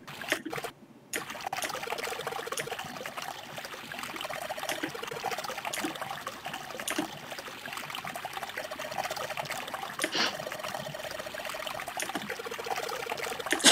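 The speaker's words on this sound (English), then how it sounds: "there's actually water." Water trickles and pours steadily in a video game, a continuous splashing flow that carries on alone for the full length after a brief gap near the start.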